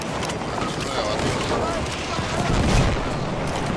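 Rifle fire in the Battlefield 1 video game, playing the cavalry class: dense, continuous bursts of shots and booms fill the scene from start to finish, with a voice talking over the gunfire.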